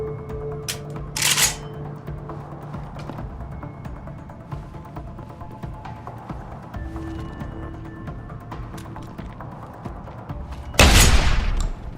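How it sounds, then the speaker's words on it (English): Gunshots in the video game Deus Ex: Human Revolution, two sharp bursts, one early and a louder one near the end, separated by a quieter stretch of game ambience. "Gunshots!"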